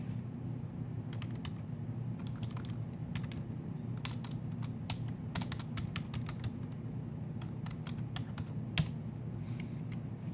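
Quick, irregular key clicks from typing on a computer keyboard, close and fairly quiet over a low steady hum, with no voices.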